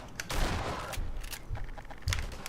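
Gunfire in Half-Life 2 rattles out in loud, close bursts, several rapid volleys separated by short gaps, with no voices.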